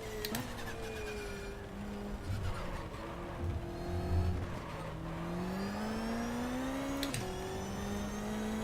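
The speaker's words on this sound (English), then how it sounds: "You can hear the raspy engine just flying past the Melbourne hairpin." A raspy BMW touring car engine in the game GTR 2 drones and shifts pitch as it passes the Melbourne hairpin at Donington Park, with squealing tones and constant mechanical noise, no talking.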